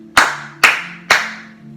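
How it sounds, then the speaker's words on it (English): Hands clap together vigorously three times in an evenly spaced rhythm, each a sharp, close, loud smack with a short tail, alone and without talk, during a self-care stretching routine. "Hands come together vigorously, clapping 3 times."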